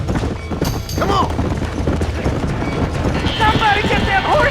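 Horses in a burning barn in the Western video game Red Dead Redemption, with hoof clatter and a whinny amid roaring fire noise and shouting voices, busy and loud throughout.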